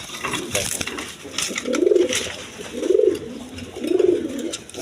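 A male Giribaz pigeon coos three times in a steady rhythm, each deep rolling coo close and clear, with faint background rustling and noise between calls.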